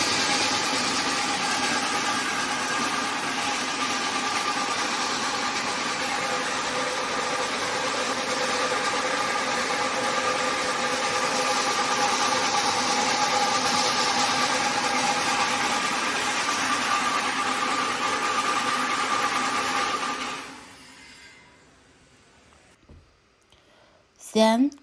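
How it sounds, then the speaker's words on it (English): A bamboo toothpick polishing machine runs loudly and steadily, a dense, continuous mechanical churning with a constant hum that holds for about twenty seconds before cutting off abruptly into near silence. "For this machine, it will also remove unqualified, shorter or broken sticks during the polishing process."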